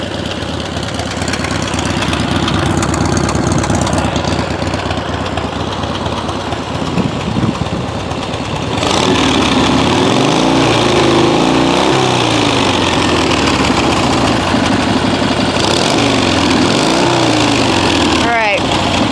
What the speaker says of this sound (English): Sounds pretty good with those homemade baffles.